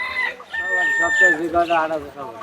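Chickens crow and cluck at a busy rural village livestock market in Sirajganj, a near, loud burst of fowl calls with a drawn-out crowing note, mixed with murmuring voices.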